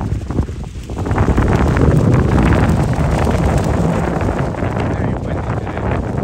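Strong wind at Orchard Beach in New York City buffets the microphone in a loud, continuous roar that swells and eases slightly, with no clear speech over it.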